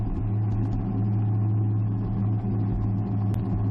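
A model White Pass diesel locomotive running on track during a model train race, a steady low electric motor hum with faint rail clicking, continuous and fairly close.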